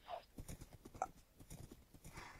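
Horses in the video game Minecraft, a steady run of soft clip-clop hoofbeats with a brief whinny-like note in the middle, moderately close against a quiet game background.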